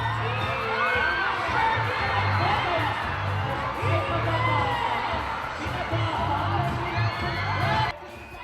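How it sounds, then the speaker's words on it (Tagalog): Fans cheering and shrieking at a mall show in Davao City, a loud, continuous crowd roar full of high screams and whoops over a pulsing low music beat, cutting off abruptly near the end. "At mas lumakas pa ang hiyawan ng mga Davaoenyo nang lumabas na on stage si Dingdong."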